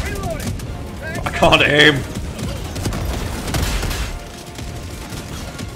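Mortars going off in Helldivers 2, dull booms and gunfire rumbling through a busy battle mix, with someone speaking briefly over it.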